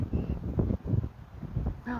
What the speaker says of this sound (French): il y a du vent sur la plage